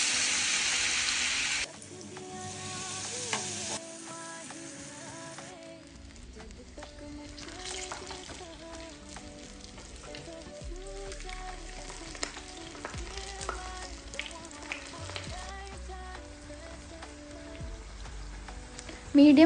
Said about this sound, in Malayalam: മീഡിയം ഫ്ലെയിമിൽ വെച്ച് ഫ്രൈ ചെയ്തെടുത്താൽ മതിയാവും